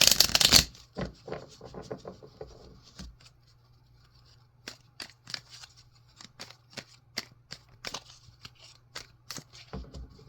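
Light Seer tarot cards are shuffled by hand, a brief loud riffle at the start followed by a series of soft, close, irregular card slaps and flicks over a low steady hum.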